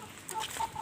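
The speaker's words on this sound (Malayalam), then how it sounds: "ഞാൻ നിങ്ങളെ കോഴികളൊക്കെയും കാട്ടിത്തരാം." Several backyard hens, including white birds and Giriraja chickens, cluck in short, closely spaced calls at moderate distance, with no talk over them.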